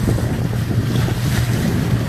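A sailboat pushes through choppy sea, with steady loud rushing water and wind buffeting the microphone. Low thumping surges roll through the wash with no voices.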